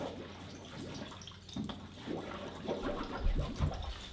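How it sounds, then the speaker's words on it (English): Gas from a butane canister bubbles into water, making a soft, churning gurgle that grows louder toward the end. "I'm gonna make some bubbles."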